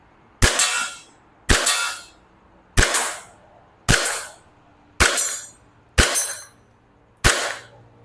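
Seven sharp, snappy shots from a WE Glock 34 Gen3 gas BB pistol fired at a target about 15 meters away, evenly spaced roughly a second apart, each with a brief hissing tail, close and loud.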